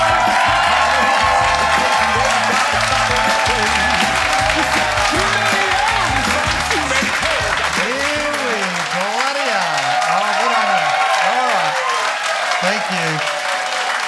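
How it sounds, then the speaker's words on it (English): A comedy club audience claps and cheers loudly and continuously to welcome a comedian onto the stage, with a dense roar of applause that fades slightly near the end. "clap those hands, and welcome Daniel Connell"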